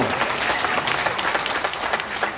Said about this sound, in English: Oh, now more applause.